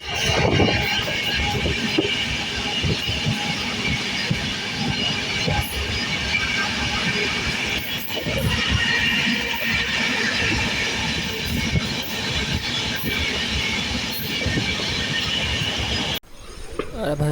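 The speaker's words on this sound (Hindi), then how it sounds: "नॉन स्टॉप हम ट्रेन चलती ही रही, चलती ही रही, चलती ही रही" Moving sleeper class train on the Bhubaneswar to Anand Vihar superfast run near Ghaziabad, a loud continuous rumble of wheels and carriage noise throughout, steady and close, with a brief drop near the end.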